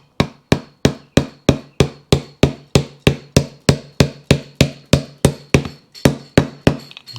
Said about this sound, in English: here we go with a plastic hammer